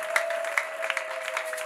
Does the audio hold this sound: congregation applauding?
yes